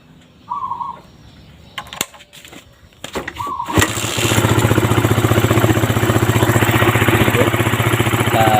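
A Suzuki Satria FU motorcycle, one with a hard-starting problem, cranks with a few short attempts, then catches and settles into a steady, fairly loud idle that runs on to the end with no talking.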